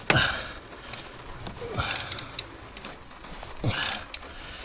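A ratchet works on the turbo bolts of a BMW F10 518d with a B47 engine, giving a few short bursts of rapid clicking between metallic scrapes and knocks, close and moderately loud.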